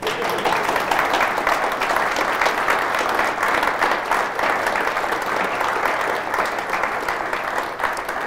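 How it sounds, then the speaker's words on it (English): An audience at a talk bursts into sustained, even applause, dense clapping from many hands lasting several seconds at steady loudness. "This is where you clap."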